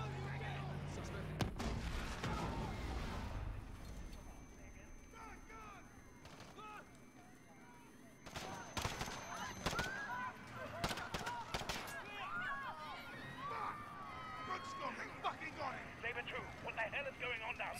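Gunfire in Call of Duty: Modern Warfare during a Piccadilly Circus police shootout, with sharp bursts of shots clustered mid-clip among tense ambient game sounds and voices.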